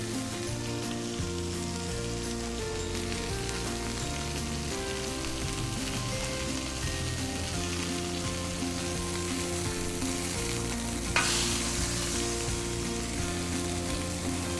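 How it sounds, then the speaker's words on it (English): Frozen burger patties sear on a hot griddle with a steady, dense sizzle that holds evenly throughout, with a brief louder crackle near the end and no talking. "And you can sear these to just the way you like them."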